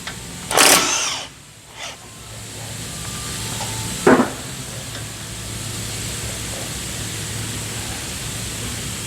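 A power tool unbolts the brake caliper on a 2017 Ford Transit 350, sounding in two loud close bursts, one long and one short, over a steady hiss of background noise in a workshop.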